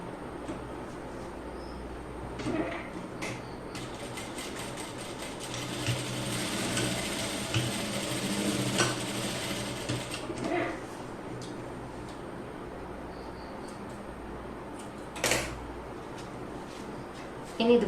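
A sewing machine runs in a steady mechanical whir for several seconds, stitching a half-inch seam on children's pants, with quieter clicks and handling sounds before and after.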